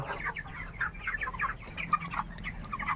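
Poultry chickens on a farm with about fourteen hundred birds cluck and call continuously, a dense chorus of overlapping clucks over a low background hum, moderately faint.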